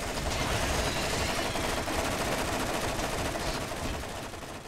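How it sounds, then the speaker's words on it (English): A weapon in the Borderlands video game fires a dense, continuous hail of bullets, loud and sustained rapid gunfire filling the whole moment before tapering off at the end. "Like this one, that shoots all the bullets."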